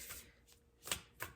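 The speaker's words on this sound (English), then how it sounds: "I'm going to shuffle a couple more times just to see." Tarot cards are shuffled in a few quick, soft riffling bursts during a winter solstice reading, faint and close with no voices.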